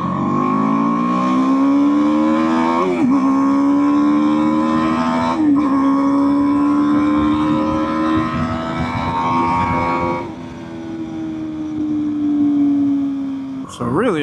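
A 2024 BMW G 310 R motorcycle engine drones loudly and continuously, its pitch climbing steadily toward high revs with brief dips at gear shifts, heard up close from the rider's seat.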